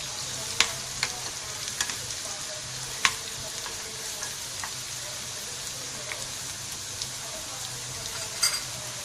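Steady sizzling of spices tempering in hot oil for masoor dal with spinach, with scattered sharp crackles and pops over a constant hiss, fairly quiet and close.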